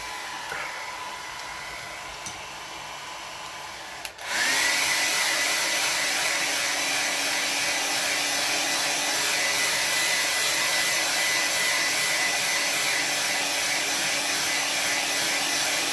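Hair dryer blowing on a watercolor painting of an oak tree, switching on after about four seconds of quiet room tone and then running as a loud, steady broadband roar to the end.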